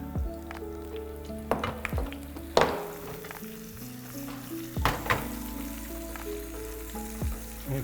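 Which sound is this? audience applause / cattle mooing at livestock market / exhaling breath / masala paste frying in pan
masala paste frying in pan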